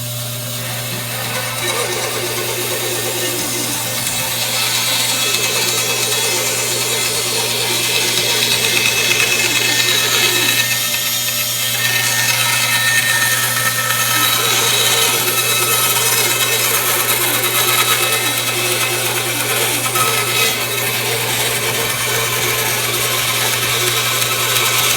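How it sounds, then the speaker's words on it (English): A Rikon 14-inch bandsaw cuts through a wood bowl blank from a tree, running loud and close with a steady motor drone under the grinding rasp of the blade through the wood, lasting the whole stretch with no talking. "there's the part where we got to cut it on the bandsaw"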